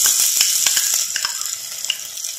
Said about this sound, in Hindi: प्याज को भूनेंगे हम गोल्डन ब्राउन होने तक